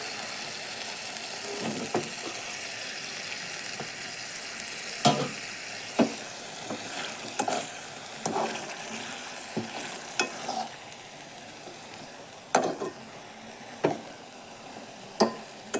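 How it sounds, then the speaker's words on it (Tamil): Boiled, cut jackfruit seeds are stir-fried in masala in a pan, giving a soft sizzle and a run of scattered scraping and stirring clinks from a spoon against the pan, each one short and close. "வேக வச்சு பெலாக்கொட்டையை கட் பண்ணி வச்சுருக்கேன். அதை இப்போ இந்த மசாலாவில் சேர்த்துக்கலாம்."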